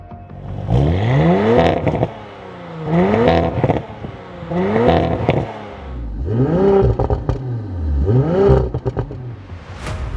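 2027 Audi RS5 hybrid engine revved repeatedly, five loud rising bursts each climbing sharply in pitch and cutting off at a soft limiter, with short pauses between them, close and alone.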